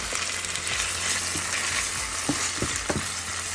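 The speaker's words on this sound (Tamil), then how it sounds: "2 வெங்காயம், ஒரு தக்காளி சேர்த்து அழகாக அதை வதக்கிக்கலாம்." Steady sizzling of onions and tomato sautéing in a hot pan, with occasional scraping stirs and clinks, up close and loud, no voices.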